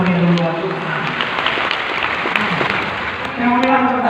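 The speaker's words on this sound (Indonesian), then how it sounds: "Tepuk tangan yang paling meriah dulu buat Tuhan." Church congregation claps loudly and enthusiastically in praise to God, a continuous roar of applause with voices mixed in underneath.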